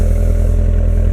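Exhaust note of a 2015 Corvette Stingray Z06 2LZ with 8-speed, a steady, loud low rumble with even pulsing, heard up close with no talk.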